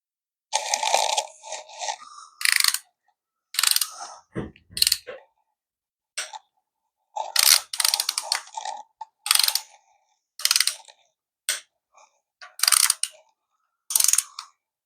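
A ratchet wrench clicks in short bursts as bolts on an exhaust manifold are tightened. The rapid pawl ticking starts and stops about a dozen times with silent gaps between, and there is one low clunk partway through.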